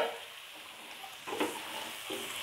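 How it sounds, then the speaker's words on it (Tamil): Chopped flat beans (thattaikkaai) sauté in a little oil, making a soft, continuous sizzle with a few brief stirring scrapes near the middle and end. "அது எண்ணெயில் கொஞ்சமாக இப்படி வதங்க விடலாம்."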